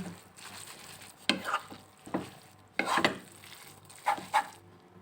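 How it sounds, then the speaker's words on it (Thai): Noodles with tomato sauce being stir-fried in a pan over medium heat, with quiet sizzling broken by several sharp scrapes and clinks of a utensil against the pan, arriving in irregular bursts. "ผัดหมี่ให้แห้ง"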